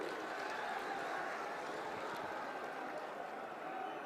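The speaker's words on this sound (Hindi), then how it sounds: "अनुराग जी के लिए जोर से ताली बजाइए सभी लोग" A large rally crowd claps steadily for candidate Anurag at an open-air public meeting with CM Yogi in Palghar, Maharashtra, a dense, even wash of applause heard from some distance.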